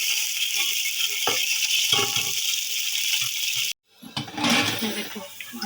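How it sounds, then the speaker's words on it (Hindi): Onions browning in hot oil for a beef yakhni pulao, a steady bright sizzle that runs unbroken, then cuts out briefly before resuming with stirring clatter. "यहाँ पर मैं प्याज डाल रही हूँ। हल्का सा इसको ब्राउन कर लेंगे।"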